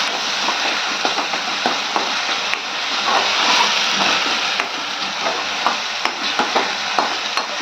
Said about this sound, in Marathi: हे छान तेल सुटेपर्यंत परतून घेऊ।